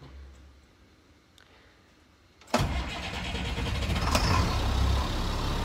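A 2001 GMC Blue Bird school bus engine cranks and catches after a quiet stretch, then settles into a loud, steady diesel-like idle that fills the rest of the clip with a sharp burst near the end.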